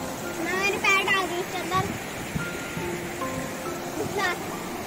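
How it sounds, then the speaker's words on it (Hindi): Water from Ethipothala waterfall in south India pours steadily as a broad rushing wash behind people talking nearby, the flow staying constant throughout. "पीछे से वाटरफॉल आ रहा है"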